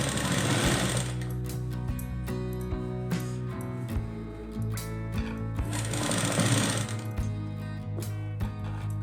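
A sewing machine stitches a plain blouse with a rapid, steady mechanical chatter, close and loud. It runs in two longer bursts with a slower stretch between them.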